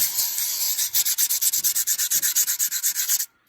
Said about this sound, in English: I'm going to use a very fine sandpaper to just lightly take the edge off of what's here